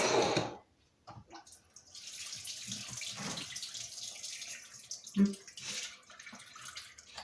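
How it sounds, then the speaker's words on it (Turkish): A kitchen tap runs while hands are washed under it, water splashing steadily into the sink after a brief pause near the start. "Şimdi de elimi yıkayın canlar."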